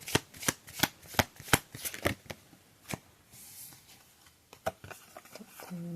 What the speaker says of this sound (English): Just pull 2 cards from this deck.